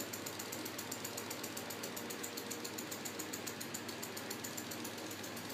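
A homemade cardboard ceiling fan runs noisily, and something on it rubs as it spins. It gives a fast, steady rhythmic rattling and buzzing that stays constant and close throughout, with no talking.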